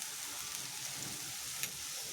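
Boiled papaya being stirred in ghee in a pan gives a faint, steady sizzle with a soft, continuous hiss throughout, plus one brief scrape near the end.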